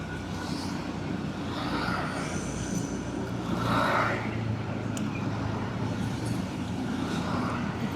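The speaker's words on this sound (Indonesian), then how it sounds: "ditambah mobil-mobil besar nih di depan." Steady road traffic rumble with large cars and trucks passing close on a rainy route, a constant engine and tyre roar with no talking.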